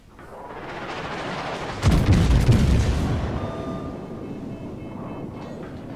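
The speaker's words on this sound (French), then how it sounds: "Ça c'est une jolie salve." A heavy booming battleship salvo in World of Warships erupts after a low rumble, deep blasts rolling and fading into a sustained distant rumble.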